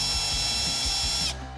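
A small drill spins at high speed in one continuous burst making pilot holes through a foot mount template on a Hobie kayak, then winds down abruptly near the end.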